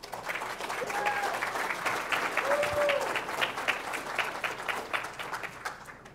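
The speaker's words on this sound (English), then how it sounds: "Let's give Dean a round of applause." An audience at a technical conference breaks into sustained applause, a dense wash of clapping that swells and holds for several seconds before tapering off, with a voice faintly heard over it.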